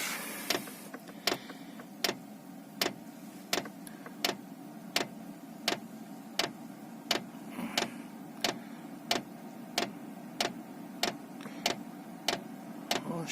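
A diesel parking heater starting up in a VW Caddy, its fuel pump ticking in a steady, regular rhythm of sharp clicks about twice a second over a constant low whirring hum of the fan, close and fairly quiet.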